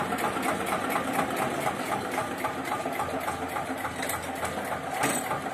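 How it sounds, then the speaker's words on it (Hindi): An Eicher 241 tractor engine runs without picking up revs, a steady rapid mechanical chatter with knocking pulses, held at an even, moderate level and close by. "के ट्रैक्टर स्टार्ट तो हो रहा, फिर रेस नहीं पकड़ रहा"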